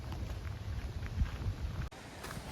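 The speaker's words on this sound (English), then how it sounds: "It's a little bit windier than we had planned" Wind rushes across a microphone outdoors on a high, exposed spot, a steady low buffeting roar that dips suddenly near the end, with no talking.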